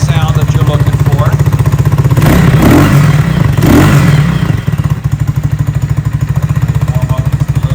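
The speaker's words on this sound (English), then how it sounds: "Warm up just a little bit." Cougar Vitacci XMT 250 motorcycle with a single side exhaust pipe warming up, a steady close rumbling idle that rises in two brief revs before settling back, with talking over it.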